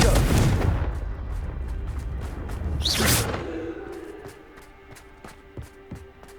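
A Confringo fire spell going off in Hogwarts Legacy: a loud booming blast with a whooshing burst near the start, a second swelling whoosh midway, then fading rumble with soft ticking hits trailing away.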